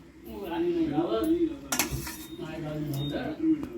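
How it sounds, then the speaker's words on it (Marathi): Hot tempering poured over dhokla in a steel vessel, with clattering pots and cutlery, a sharp metallic clank midway and a short sizzle, close by, and faint voices in the background. "आता तडका आपण असा त्याच्यावर टाकून घेऊ"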